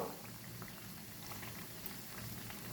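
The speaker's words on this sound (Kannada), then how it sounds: "ಆಲ್ಮೋಸ್ಟ್ ಕಂದು ಕಂದು ಬಣ್ಣ ಬರೋವರೆಗೂ ಕರಿಬೇಕು" Chana dal vadas deep-fry in oil with a steady, dense crackling sizzle, close and continuous and fairly quiet, with no talking.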